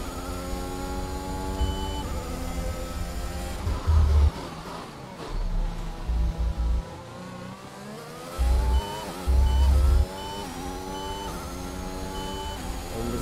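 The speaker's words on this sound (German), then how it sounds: "ich drücke voll auf das Gas und wir machen weiter" Race car engine in F1 2021 at full throttle around Portimao, a loud sustained whine climbing through the gears with short punchy bursts, steady and close throughout.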